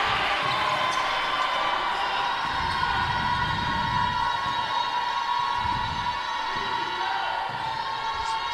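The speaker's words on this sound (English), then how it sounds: "Spearville's crowd trying to get some noise into this building." Spectators of the Spearville boys' team fill a gym during a league play-in basketball game, a steady, continuous indoor crowd roar with scattered shouts beneath a commentator's voice.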